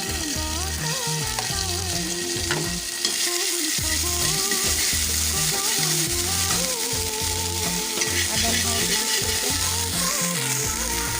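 Ginger and garlic fry in a little oil with a loud, continuous close sizzle and crackle, joined by periodic scraping from stirring throughout.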